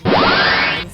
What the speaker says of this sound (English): added new battle animations for the crystal tank. So we got a cool laser.